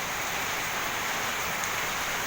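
Heavy rain pours down in Binahitan during a storm, a dense, steady hiss of falling water that fills the whole moment, loud and close, with no voices.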